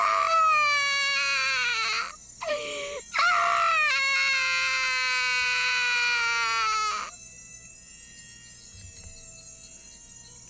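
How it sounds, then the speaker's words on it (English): A young girl, Satoko, screams in a visual novel game, a long, loud, piercing wail with a brief break near the middle. It cuts off abruptly after about seven seconds, leaving near silence. "Satoko screamed."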